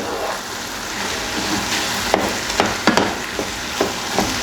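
Pasta and cooked meat stirred in a pan, with a soft continuous sizzle and several sharp scrapes and taps of the utensil against the pan, close up.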